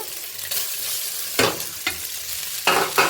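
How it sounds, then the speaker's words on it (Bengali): Pasta tossed in hot oil in a wok sizzles steadily up close, broken by several sharp scraping stirs of a spatula against the pan. "পাস্তাগুলো আমি দিয়ে দিচ্ছি এটাকে আমি তেলের মধ্যে একটু ভালো করে উল্টে পাল্টে ভেজে নেব"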